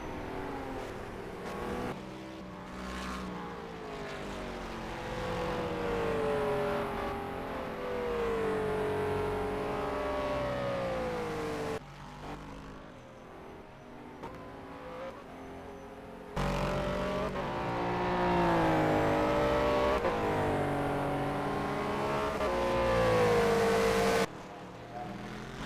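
Race cars in a sim racing video game at Bahrain, engines revving up and down through gear changes with a few abrupt cuts between cars, moderately loud.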